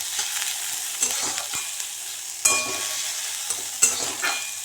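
Mixed vegetables, lightly salted, sizzle steadily in a hot pan while a utensil stirs them, with several sharp scraping knocks standing out over the continuous close frying hiss. No voices.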